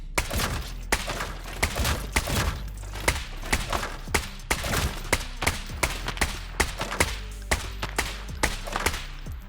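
Rifle shots in the video game Arena Breakout: Infinite, fired singly in an uneven rhythm for several seconds, loud and close with no talking.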